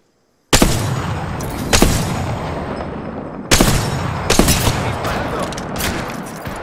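Loud bursts of Apex Legends gunfire, several heavy volleys with rapid shots ringing out close, separated by brief lulls, no talking.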